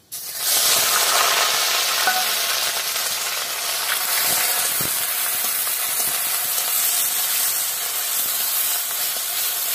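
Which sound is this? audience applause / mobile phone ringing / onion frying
onion frying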